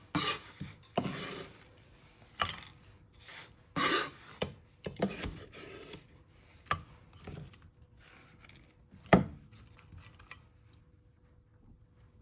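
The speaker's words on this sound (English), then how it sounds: "So quick chop through of those pecans." A knife taps and scrapes on a cutting board as it quickly chops pecans, giving a run of uneven, sharp clicks and thuds up close with short pauses between them and no talking.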